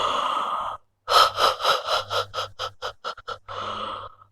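Deep open-mouth breaths during a yoga session, loud and close: a long exhale, then a rapid series of panting breaths that shorten and quicken before a final sustained breath.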